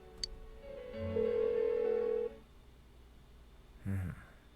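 A telephone in the video game Persona 4 Golden rings on unanswered: one electronic ring tone sounds, a pause follows, then a short second ring begins, with low background hum in between.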